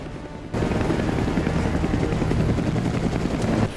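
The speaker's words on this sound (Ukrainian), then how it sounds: "Фінальна битва між Ітаном і Уокером розгортається в повітрі на гелікоптерах" Helicopters in an action film's airborne final battle: a loud, steady rotor thrum with rapid chopping beats bursts in after a brief quieter moment and holds close and continuous.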